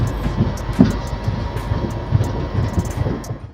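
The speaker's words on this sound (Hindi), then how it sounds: "ये है दोस्तों अपनी जयनगर आनंद विहार गरीब रथ एक्सप्रेस, जो कि जयनगर से आ रही है आनंद विहार के लिए निकलते हुए" Jaynagar–Anand Vihar Garib Rath Express passing on the loop line at Thalwara railway station, a steady, close rumble of wheels and wagons with faint rhythmic clatter throughout, no voices.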